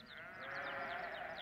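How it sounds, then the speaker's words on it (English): Sheep bleats from a song on an album play as a dense, steady, continuous wash with repeated wavering calls on top. No one speaks. "I just heard them damn sheep."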